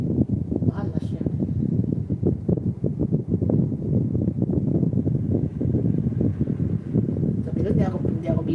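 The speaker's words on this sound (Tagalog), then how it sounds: "Kung ganito palaging mahangin." Strong wind buffets an outdoor microphone in a windy subdivision area, a steady low roaring rumble filling the whole stretch, with a person talking underneath it.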